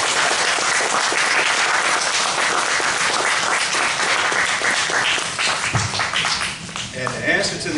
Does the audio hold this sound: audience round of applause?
yes